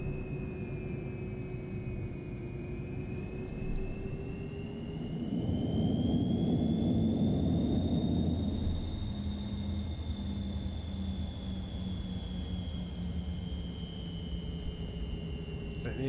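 An MD-83 jet touches down firmly and uses light thrust reverse, a steady cabin engine roar with a high whine that swells into a louder rumble midway through the rollout, then eases back down.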